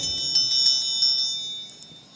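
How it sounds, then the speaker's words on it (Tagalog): A church bell rings with clear, sustained metallic tones, struck several times in a steady rhythm, then fading out. "inigbagting sa kampana"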